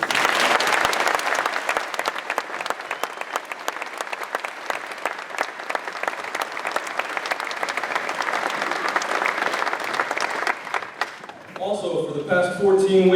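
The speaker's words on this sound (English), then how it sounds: "please give them a round of applause" Loud, sustained applause from a large crowd at a U.S. Army basic training graduation ceremony at Fort Benning, dense clapping rolling steadily for several seconds before fading as a voice begins speaking.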